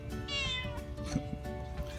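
A cat meows at a home farm during an aquaponic onion harvest, with a few quiet, drawn-out mews close by over a low outdoor background.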